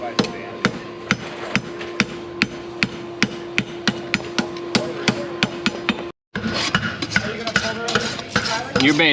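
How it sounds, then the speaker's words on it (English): A farrier works a rasp over a horse hoof at a farrier clinic, making a steady run of sharp, evenly spaced strokes. After a brief gap, rougher, more continuous scraping follows. "I don't want to rasp it past straight"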